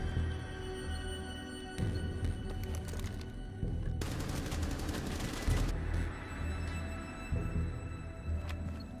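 Automatic rifle fire shooting through walls in Rainbow Six Siege on the Chalet map, rapid bursts of gunshots repeating across the clip with a dense crackling volley in the middle, loud and close with no talking.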